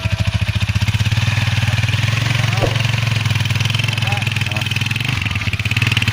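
A motorcycle engine idles nearby with a steady rapid throbbing, continuous and fairly loud, while a person speaks briefly over it.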